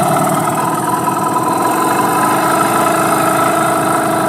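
A Yamaha outboard boat motor idles steadily, running before a Seafoam cleaning treatment; its loud, even drone continues unbroken with no talking.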